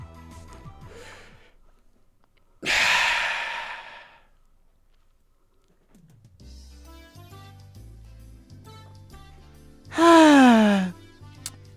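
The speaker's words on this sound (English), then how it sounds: "Wow, that was a really big yawn" A big yawn in a visual novel game rises in a long drawn-out breathy swell near the end, following an earlier short breathy sigh, with soft game music playing underneath.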